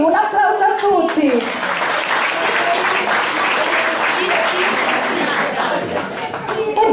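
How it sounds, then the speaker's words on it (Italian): A large audience at an annual Italian public gathering breaks into sustained clapping for the fathers and those named Giuseppe, following a brief voice at the start; the applause stays loud and dense for several seconds. "un applauso a tutti!"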